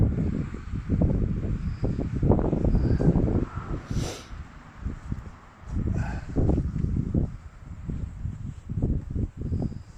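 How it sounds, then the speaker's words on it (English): Wind gusts across an open Catholic cemetery in Saltcoats, buffeting the microphone in loud rumbling bursts that surge and ease, with a brief lull midway. "it's getting too windy now"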